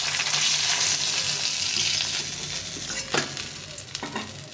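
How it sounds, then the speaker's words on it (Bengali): Mrigal fish pieces fry in hot oil with a dense, steady sizzle, joined later by a couple of sharp utensil scrapes, close and fairly loud with no speech. "আর বাকি মাছগুলো ভেজে নেব।"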